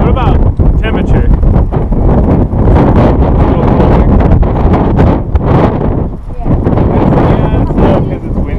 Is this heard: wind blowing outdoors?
yes